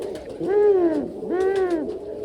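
A pigeon perched near a fence coos twice, close and clear, each coo a low throaty rising-then-falling call lasting under a second, with a short gap between them.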